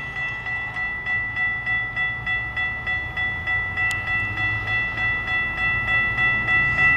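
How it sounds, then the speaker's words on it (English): A southbound RTD N-Line commuter train rolls past with a steady rumble and a rhythmic, repeating clatter, high ringing tones sustained throughout at moderate distance. "So here comes the southbound train."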